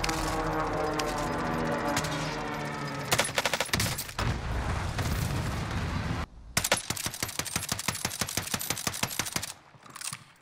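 Gunfire crackles in a Warzone battle royale match, with rapid, loud bursts of automatic shots in quick succession, a short pause, then more clustered rapid fire.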